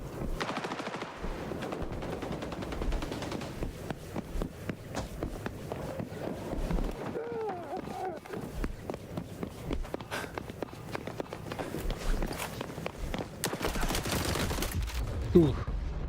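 Rapid gunfire from shotguns and automatic weapons in the online shooter XDefiant, dense crackling bursts and sharp shots with footsteps mixed in, steady and fairly close throughout.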